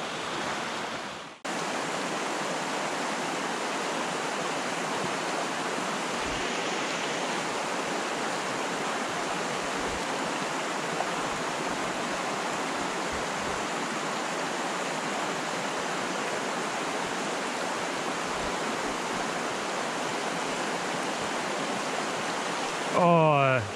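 Fast-flowing stream water in Mt Field National Park, a steady loud rushing roar that starts abruptly after a second and continues without pause for over twenty seconds.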